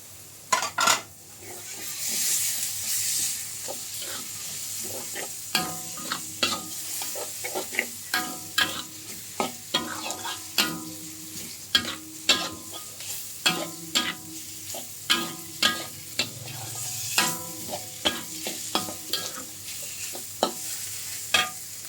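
Chicken fries in a pan with curry powder, a steady sizzle under frequent irregular scrapes and clacks of a utensil stirring against the pan, close and fairly loud.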